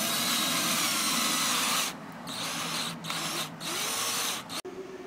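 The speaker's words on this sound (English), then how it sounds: "Drilling a hole in the top left corner of the mounting plate" A power drill bores a hole through the metal mounting plate for a Chrysler Crossfire HID headlight kit, a loud, close whine broken by a few short pauses.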